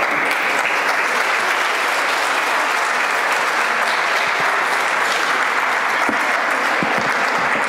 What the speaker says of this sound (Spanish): Recibamos con un fuerte aplauso a nuestro ponente de esta mañana